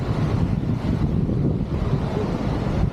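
Wind buffets the microphone at Unchahalli Falls, a steady low roar and rumble that stays loud for a few seconds with no voices.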